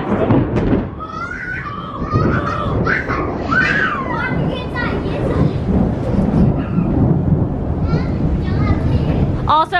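Thunder rumbles and crackles through a lightning storm outdoors, loud and sustained over several seconds, while adults and children talk and exclaim over it.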